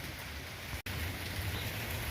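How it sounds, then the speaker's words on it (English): Steady rain falling outdoors on a July day, a dense, even hiss of drops on surfaces, continuous and fairly loud with one brief cut, no voices. "we're going to be underneath here because it's raining today."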